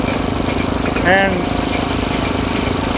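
A 1913 International Harvester miniature hay baler driven by a small Briggs and Stratton engine runs with a steady, close mechanical drone throughout, while a person speaks briefly over it at an outdoor harvest festival.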